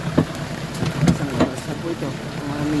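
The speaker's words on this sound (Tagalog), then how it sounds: "Lakas na ulan." Heavy rain falls on Jomalig island in Quezon, a dense patter with scattered louder drop impacts, and a voice speaks over it.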